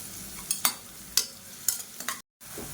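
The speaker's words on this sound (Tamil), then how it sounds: "வெங்காயம் நல்லா சாஃப்டாக வதங்கணும்." Finely chopped large onions sauté in a pan under a low sizzle, with several sharp scrapes and taps of a spoon or spatula stirring them at irregular intervals, then a brief silent gap near the end.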